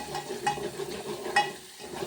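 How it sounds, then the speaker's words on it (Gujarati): Papdi beans tempered in hot oil in a pan for a vegetable dish, giving a steady close sizzle with stirring scrapes and a couple of sharper clinks, no talking. "પહેલાં આ રીતના આપણે વઘારીએ"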